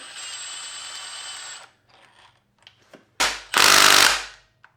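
Tool work on RB26 cylinder head bolts: a steady whir, light clicks and taps, then two loud, harsh bursts of a power tool close by, with no talk.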